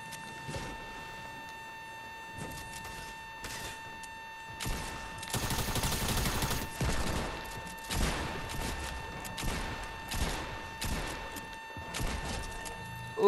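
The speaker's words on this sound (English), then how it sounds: "Who's shooting at me?" Video game gunfire in bursts and fusillades, rapid automatic shots crackling close and loud in repeated clusters, with sharper bursts toward the middle and a steady electronic tone underneath.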